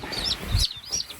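Young chicks in a brooder chirp in a few high, rising peeps over a low background rumble, close and moderately loud.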